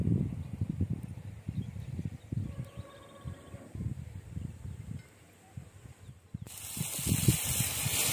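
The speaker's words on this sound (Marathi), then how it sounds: "आता कांदा टाकतो, कांदा चांगला परतून घेऊ आपण." Onion frying in oil in a pan over a wood-fired chulha stove, a low, crackling sizzle with small bursts, rising to a stronger hiss near the end.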